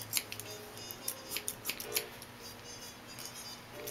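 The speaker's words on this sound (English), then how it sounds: "cut that straight across, blending it in with the guideline, this guide strip that we cut" Scissors snip through hair during a men's haircut, a quick run of crisp close-up cuts near the start and a few lighter snips later, with no talking.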